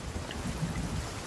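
Rain falls over a ship at sea in Sea of Thieves, a continuous dense wash of noise with low rumble beneath, steady and moderately loud for the whole moment.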